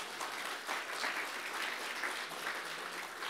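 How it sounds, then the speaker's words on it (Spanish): A church congregation claps together during a Spanish-language sermon, producing a steady, full burst of applause that swells slightly in places and continues without any talking over it. "Denle un aplauso a Jesucristo."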